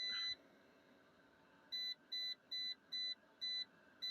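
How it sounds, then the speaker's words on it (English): A battery charger on a 2 amp trickle charge beeps steadily six times in an even rhythm, after one longer beep at the start, over a faint hum. "Excuse the beeping."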